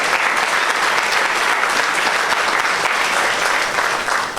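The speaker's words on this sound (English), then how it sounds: "We want to give them a round of applause." Loud, sustained applause from a crowd at a political party's local government campaign launch, saluting the campaign strategy team; continuous dense clapping with no pause throughout.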